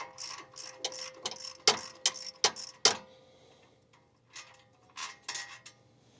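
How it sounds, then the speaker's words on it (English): A wrench ratchets quickly while loosening a bolt on an OEM third function hydraulic kit, giving a burst of sharp metallic clicks, a short pause, then a few more clicks, close and fairly quiet. "We're going to loosen this bolt."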